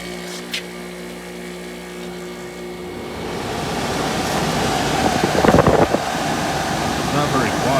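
A mid-1980s Emerson Quiet Kool 27,000 BTU rotary window air conditioner runs on low. It begins with a soft steady hum, then grows into a louder broadband whoosh of fan air with a faint droning tone.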